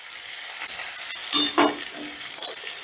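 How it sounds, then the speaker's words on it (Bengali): Vegetables, slit green chillies, fried cashews and raisins sizzle in a pan for vegetable pulao, a steady bright frying hiss with a couple of louder stirring scrapes near the middle. "সমস্ত ভেজিটেবিলগুলো বেশ ভালো করে ভাজা ভাজা করে নিয়ে দিয়ে দিচ্ছি কাঁচা লঙ্কা"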